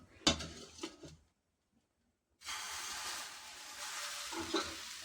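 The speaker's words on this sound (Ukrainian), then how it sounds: "Смажу, ой, смажу налисники." A few clinks of cookware, a short silence, then a steady sizzling hiss of crepes frying in a pan, close and continuous.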